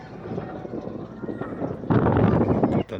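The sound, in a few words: wind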